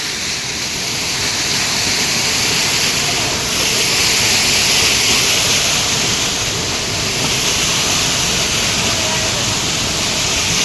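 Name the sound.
waterfall, water falling with great force on Kedarnath trek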